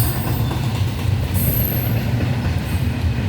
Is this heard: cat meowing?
no